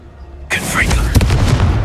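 A Confringo fire spell in Hogwarts Legacy goes off as a sudden loud explosive burst, followed by a sustained roaring, crackling blast, with a voice shouting briefly alongside it.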